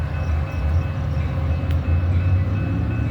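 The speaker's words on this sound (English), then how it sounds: "Northwest train number 701 to Harvard is now arriving." A Metra commuter train on the UP Northwest line arrives at a station, a steady low rumble of rolling cars and engine droning close by without pause.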